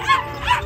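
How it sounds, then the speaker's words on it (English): A puppy at a 4-H fair dog race gives two short, high, yappy barks up close, with no talk. "it's a Frankfurter's best friend, a little puppy named Beans"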